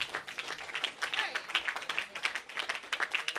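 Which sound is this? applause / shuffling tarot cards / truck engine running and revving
applause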